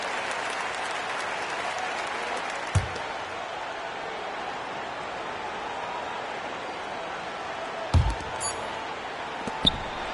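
Arena crowd in the NBA 2K24 basketball game, Minnesota Timberwolves against Utah Jazz on PS5, a steady broad roar of cheering and applause throughout with a few sharp ball bounces or squeaks standing out briefly.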